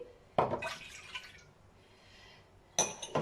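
Milk is poured into a bowl for brioche dough, with two short close splashing, clinking bursts separated by a quiet gap.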